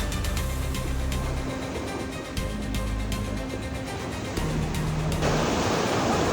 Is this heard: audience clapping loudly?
no